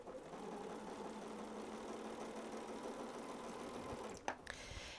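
Sewing machine running steadily while piecing fabric strips for a quilt block, a continuous close mechanical whir with no speech, briefly interrupted by a short clatter near the end.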